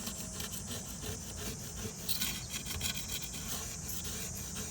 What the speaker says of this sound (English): So this is where the razor blade works really good. You can just hear it scraping off.